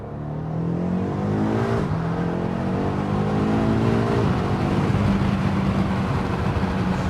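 A BMW M8 Competition's engine revs hard under full acceleration, loud and close, with rising pitch, a gear change near two seconds, and a long climbing pull.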